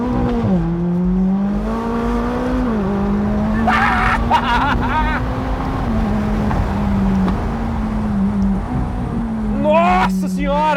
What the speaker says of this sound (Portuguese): vamos agora de fato sentir um pouco do que é a aceleração do 570S, trocar de marcha e pôr para ferrar